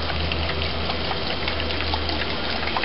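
Denatured alcohol poured into a mixing cup while mixing paint for a drum shell fade; a steady, close liquid pour with a low hum beneath, continuing for the whole stretch without speech.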